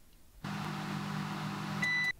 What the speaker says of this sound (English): Microwave for 9 minutes.